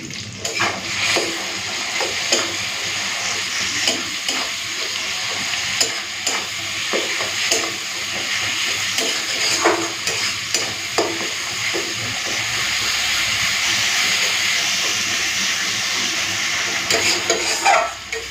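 Green banana peel paste fries in a pan with turmeric and a little sugar, making a continuous, fairly loud hissing sizzle with scattered crackles and occasional stirring scrapes throughout.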